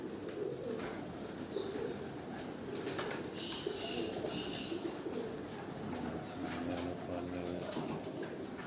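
Pigeons coo on a rooftop in Sialkot, their soft, low, repeated calls rising over a steady background hiss, clearest in a run of coos toward the end.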